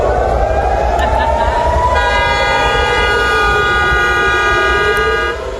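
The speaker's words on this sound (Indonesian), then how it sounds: "Suara sirene tanda peringatan terdengar di sejumlah titik di Tel Aviv." A civil defense warning siren sounds across Tel Aviv, a loud sustained wailing tone that holds steady for several seconds with a slowly shifting pitch before easing off at the end.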